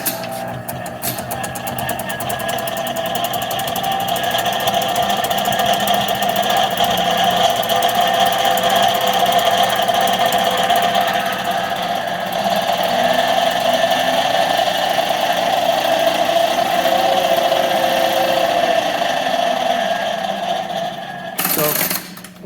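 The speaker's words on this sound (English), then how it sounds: "it is noisy in back gear" A Monarch 10EE 30-inch lathe running in back gear after years unused gives a loud, steady mechanical whine and rattle that holds for about twenty seconds, then cuts off abruptly near the end.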